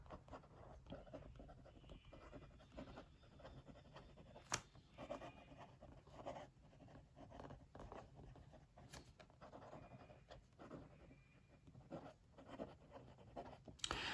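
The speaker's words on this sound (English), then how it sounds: "Let's do some writing." A Hongdian Forest fountain pen nib scratches across paper close up, a soft continuous papery scratching with short strokes and brief pauses, a few faint taps as the pen lifts and touches down.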